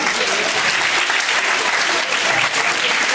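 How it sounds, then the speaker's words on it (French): Loud, sustained applause from an audience at a cosplay group contest, dense clapping throughout with a few crowd voices mixed in. "Bravo, on les applaudit encore une fois."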